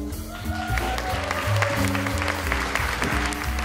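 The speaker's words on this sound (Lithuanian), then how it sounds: "Aplodismentų ovacijų, kai daug." Audience applause at a theatre awards ceremony, a dense, steady clapping that fills the clip with cheering crowd noise and music underneath.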